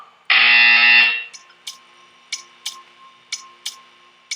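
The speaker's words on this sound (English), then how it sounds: "You will hear a buzzer." A buzzer in the Portal 2 video game, one loud, harsh electronic blare lasting under a second, followed by a faint, evenly spaced ticking.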